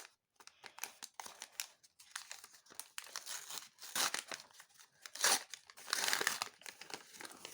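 A paper collectible blind packet crinkles and rustles close up in irregular bursts, with short pauses between the louder crackling handfuls.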